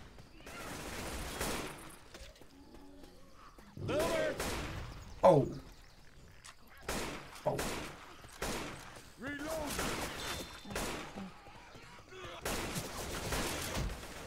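Rapid gunfire erupts in the Left 4 Dead 2 video game, several sharp bursts and volleys spread across the stretch, fairly faint, with players' brief exclamations in between.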